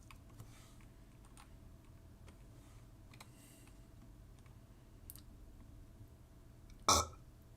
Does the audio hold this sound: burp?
yes